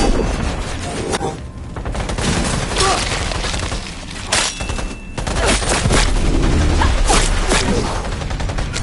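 Sustained gunfire from Call of Duty: Black Ops 3, with loud, dense bursts and booming impacts filling the whole stretch, with almost no let-up.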